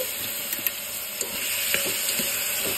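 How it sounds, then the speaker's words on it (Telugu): Turmeric and raw mango pieces are stirred in hot oil in a pan, a steady close sizzle broken by light scraping clicks of the spoon. "నెక్స్ట్ పసుపు, అలానే మామిడికాయ ముక్కలు ఒకసారి బాగా కలుపుకుందామండి"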